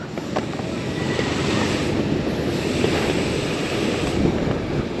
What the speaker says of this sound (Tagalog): sobrang lakas ng hangin tinatangay lang yung drone natin